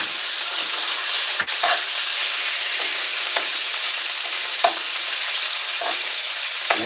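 Bacon frying in a pan gives a steady, close hiss of sizzling grease, broken by faint scrapes and light taps of a fork against the pan.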